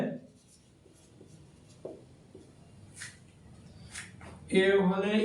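Pen or marker writing on a board during a Bengali algebra math class, soft scratchy strokes in short bursts, a louder scraping run near the end, with faint background noise.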